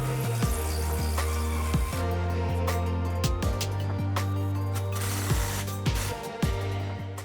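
A ratchet snugs an exhaust hanger bolt and clamp with a loud, steady series of metallic clicks and occasional sharper pawl snaps, with no voices.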